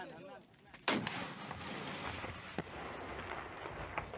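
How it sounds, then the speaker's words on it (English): Rocket launcher fired by Kurdish fighters in combat near Raqqa, a single sharp, loud blast followed by a long rumbling roar, with fainter distant booms and gunfire continuing afterward. "Get the rocket launcher."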